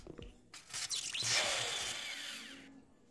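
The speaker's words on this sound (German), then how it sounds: "Der eine ist mit ihrer Bohrmaschine." A power drill in the game Cafe Owner Simulator whirs up sharply after a few clicks, spinning at high pitch for about two seconds before winding down; no one speaks.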